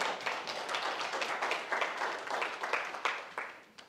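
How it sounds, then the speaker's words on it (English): A conference audience gives a round of applause for a speaker at a digital marketing talk, a fairly faint, even patter of many hands clapping with no voices over it. "let's give him a huge round of applause"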